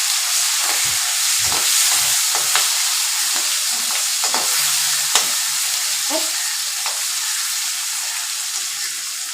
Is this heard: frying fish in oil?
yes